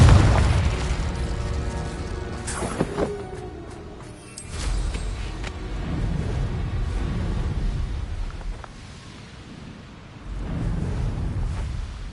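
Explosive Confringo spell blasts from the Hogwarts Legacy video game, heavy booming detonations and rumbling bursts repeating in waves over several seconds, loud and close with crackling debris.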